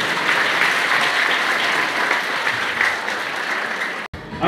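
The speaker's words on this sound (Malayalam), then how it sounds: "ഒരു നല്ല കയ്യടി കൊടുക്കോ" A school ceremony audience claps warmly and steadily for several seconds before the sound cuts off abruptly near the end.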